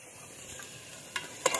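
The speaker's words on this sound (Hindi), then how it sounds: "अभी मैंने मसाला रेडी करके अभी इसको तड़का लगा दिया है।" Spices sizzling in hot oil while tempering a tadka for pea and chicken curry, a soft steady frying hiss with a couple of sharper crackles and stirring scrapes near the end, close and quiet, no talking.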